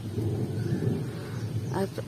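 A low, rolling rumble of thunder from a gathering storm with frequent lightning fills the background, steady and moderately loud, with a faint voice-like sound briefly toward the end.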